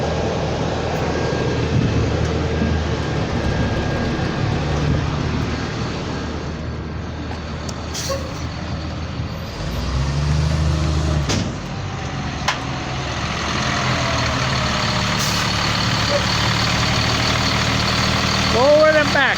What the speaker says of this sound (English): We're gonna move this bus for you.